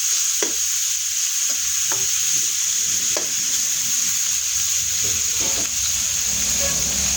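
Chicken fries in butter in a pan, giving a steady close sizzle throughout with occasional stirring clicks and scrapes.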